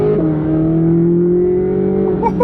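A 670 hp Corvette C8 Z06 supercar drones steadily under hard acceleration, its engine note loud and sustained from inside the cabin, rising slightly near the end.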